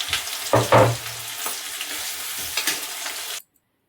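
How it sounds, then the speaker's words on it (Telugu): Chopped onions hit hot oil in a pan with a loud burst of frying and stirring near the start, then a steady close sizzle continues until it cuts off abruptly. "ఆనియన్స్ కట్ చేసుకుని అయితే వేస్తున్నాను."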